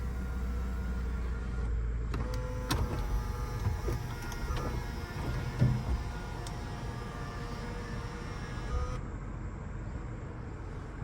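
Panoramic moonroof on a 2023 Toyota Camry XLE closing, a steady electric motor whir inside the cabin starting around two seconds in, with a few clicks and thumps, then stopping near nine seconds.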